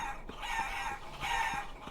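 A rooster crows in the Guacamelee video game, with two loud, drawn-out crows in quick succession filling the short clip.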